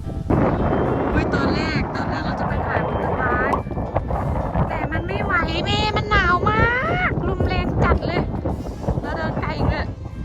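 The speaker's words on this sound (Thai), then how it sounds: "ตอนนี้ลมแรงแล้วก็หนาวมากหนา" Strong, cold wind buffets the microphone at the PowerPark amusement park in Vaasa, Finland, in summer, with heavy continuous roaring gusts throughout and people talking underneath.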